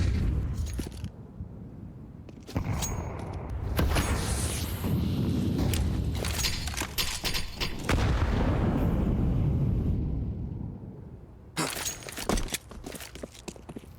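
Grenades burst during a Counter-Strike 2 esports match, Team Vitality versus Team Liquid at EWC 25, as fake B-site nades land: repeated loud, broadband blasts mixed with gunfire rattle, with heavy dense stretches separated by short lulls.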